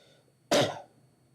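A single short cough, close and abrupt, rising out of quiet background hiss.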